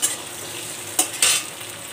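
Vegetables such as pointed gourd, gourd stems, tomato and capsicum stirred in a hot pan for a fish curry, with steady sizzling and two quick scrapes of the spoon against the pan.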